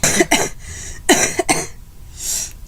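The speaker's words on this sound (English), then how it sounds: "now I have horrible, phlegmy coughs" Two bursts of wet, phlegmy coughing from a sick person with a sore throat, each a quick double cough, close by, followed by a breathy exhale.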